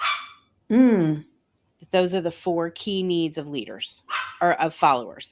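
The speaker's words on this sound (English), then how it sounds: "I apologize for my dog in the background." A dog in the room gives a loud bark or yelp, followed by whimpering yips that blend with a person speaking over it during a conversation.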